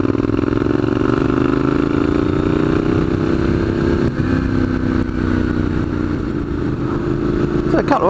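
A 2015 Triumph Scrambler motorcycle engine running steadily while being ridden, a loud, smooth mid-pitched drone that holds throughout with a slight change in pitch near the end.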